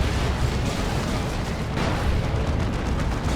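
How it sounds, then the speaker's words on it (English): A grenade explosion in the Dawn of War 2 strategy game during a 3v3 match, a loud, dense blast with sustained rumbling debris filling the whole moment, no voices over it. "Grenade goes in, but they tough it out."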